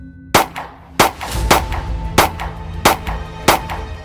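Gunshots fired at a high school student ring out six times, each report sharp, close and loud, at a fairly even pace with short echoing tails.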